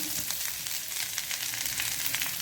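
Food frying in ghee over a low flame, a steady close crackling sizzle with fine bright popping that keeps going without a break and with no voices.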